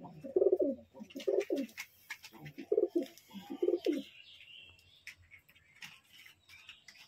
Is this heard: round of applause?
no